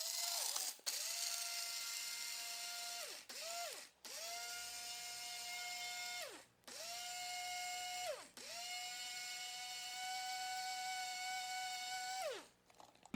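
An electric coffee grinder grinds beans to a fairly fine grind in steady whirring bursts of a few seconds each, separated by short gaps, fairly quiet and without talk.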